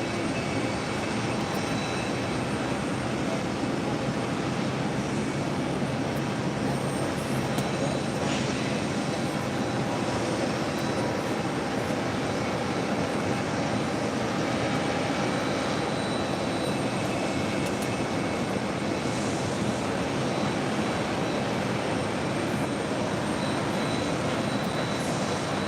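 Airbus A330-800 jet airliner at JFK Airport, engines producing a continuous broad roar that holds steady and loud throughout, with no clear voices over it.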